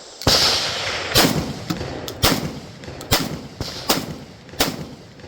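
Mac 1014 shotgun fires six loud, sharp blasts spaced about a second apart, each with a short decaying echo, no voices.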